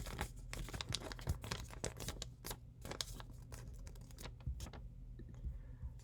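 Sheet of paper being folded into an origami crane, with close, repeated crinkling and crisp creasing bursts spread through the clip, no talking.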